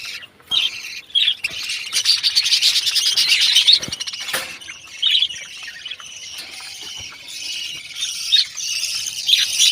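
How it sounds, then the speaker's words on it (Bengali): Caged pet birds chirping and squeaking in a busy, overlapping chorus of high, quick calls, close and fairly loud, with brief pauses between bursts and no talking. "এই যে সবগুলো পাখি"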